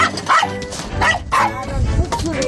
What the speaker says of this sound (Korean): 강아지들은 든든한 파수꾼 역할을 합니다.